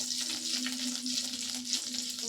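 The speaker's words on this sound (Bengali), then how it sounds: "দেখুন সর্ষে আর কারি পাতাটা ভাজা হয়ে গেছে" Mustard seeds and curry leaves frying in oil, a steady close crackling sizzle with faint popping, over a low electrical hum and with no voices.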